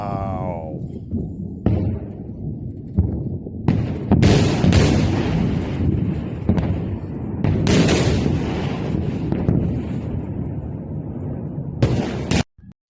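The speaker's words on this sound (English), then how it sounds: "Ballistic missiles" Ballistic missiles strike and explode on impact, producing a run of loud, heavy booms and bursts across the span, with crackling blasts overlapping and a few sharp hits near the end.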